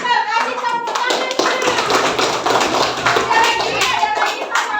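Children in an Indonesian primary classroom clap their hands together in a steady, busy burst that fills the room, with young voices calling out over the clapping.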